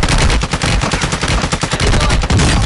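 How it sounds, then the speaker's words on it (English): Loud, rapid automatic gunfire in a video game as a player shoots through a wall, with dense, continuous bursts of shots filling the whole stretch and no talking. "he's shooting through the wall"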